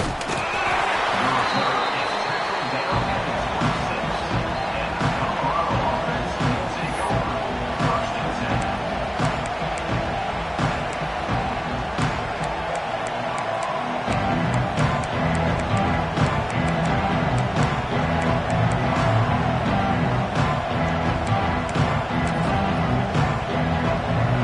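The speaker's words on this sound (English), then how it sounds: "This crowd ready to make its presence known." Football stadium crowd roaring steadily through a kickoff and the start of a drive, a dense continuous wall of cheering that swells louder in the second half, with a play-by-play commentator talking over it.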